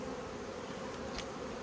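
Honey bees on a hive frame give a steady, even buzzing hum, close and continuous throughout, with no voices.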